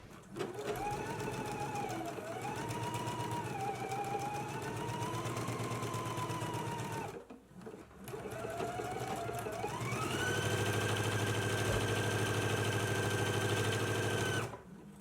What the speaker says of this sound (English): stitch the seam at a 5/8 inch seam allowance on the center back